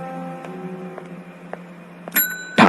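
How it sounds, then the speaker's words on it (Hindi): A small bell gives a bright ring near the end, following a quiet stretch with faint ticks and a low steady hum. "ठाकुर ने घंटी बजाई"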